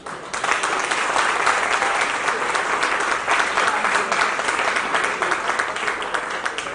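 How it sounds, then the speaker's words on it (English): Sustained audience applause at a police hospital co-operative credit union gathering, a dense steady wash of many hands clapping that starts quickly and holds at an even level throughout. "I think you deserve an applause"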